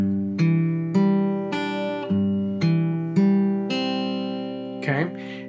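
Acoustic guitar fingerpicked in the arpeggio pattern of a song, played alone with evenly spaced plucked chords ringing into each other, ending in a brief rustle of the fretting hand.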